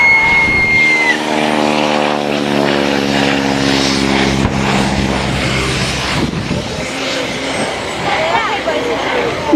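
A propeller aeroplane flies overhead at a wingwalking display at around 120 miles an hour, its loud, steady droning engine filling the whole stretch and shifting in pitch as it passes, with a voice talking over it.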